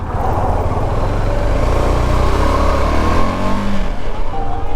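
A motorcycle engine runs close by in Leh while the rider looks for a parking spot, a loud, steady low rumble that holds throughout with slight shifts in pitch.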